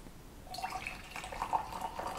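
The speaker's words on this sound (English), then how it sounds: "Add in some hot water" Hot water is poured into cold brew coffee concentrate in a mug, a soft steady trickling stream with faint splashing, close and quiet, no talking.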